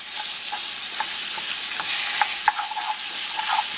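Half a pound of ground pork sizzles in a pan with browned garlic as it is stirred and broken apart, giving a steady close frying hiss with scattered scraping clicks and no talk.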